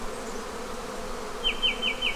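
Honey bees swarm and buzz around an open hive during an inspection in a bee yard, a steady close hum filling the whole stretch, with a few faint chirps near the end.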